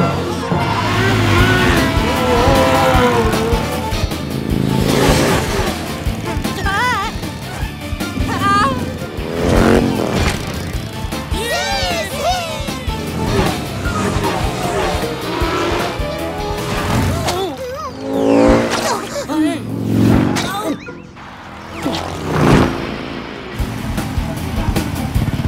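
Cartoon race cars roar away from the start of a Grand Prix, with loud engine revs, whooshes and squeals layered under music and voices talking over the action throughout.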